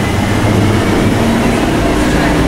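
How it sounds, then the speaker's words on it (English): A Vancouver SkyTrain passes close by, a loud continuous rumble and rolling rail noise with a low engine drone that holds steady throughout. "There's our SkyTrain."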